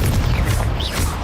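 A Confringo spell explosion in Hogwarts Legacy gives a loud, dense, rumbling burst that fills the whole short moment, close and heavy with a gritty crashing texture.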